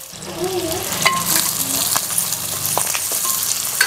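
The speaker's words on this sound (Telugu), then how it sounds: "నూనె బాగా వేడి కాగానే 2-3 ఉల్లిగడ్డలు మంచిగా సన్న కట్ చేసుకొని వేసుకోవాలి" Finely chopped onions fry in hot oil in a kadai, a close, steady sizzle with scattered pops and scraping stirs of a spoon against the pan.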